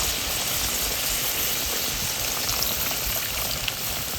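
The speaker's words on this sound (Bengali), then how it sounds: "পরিমাণ মতন জল দিয়ে দেব," Water is added to a pan of aloo posto, a Bengali potato and poppy seed dish, giving a steady, loud hissing sizzle that continues throughout without speech.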